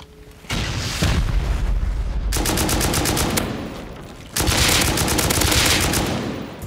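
Explosive-round gunfire tears through a base raid in a video game, sustained bursts of rapid shots with booming impacts, loud and continuous, pausing briefly midway before a second heavy barrage.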